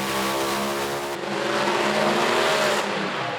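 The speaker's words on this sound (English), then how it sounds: "Big burnout, quite a different sound to this race car compared to the blown alcohol, top alcohol dragsters." A nitromethane dragster race car does a big burnout, a loud, harsh, sustained engine roar with rough harmonic pitch and tire noise that stays close and intense for the whole stretch.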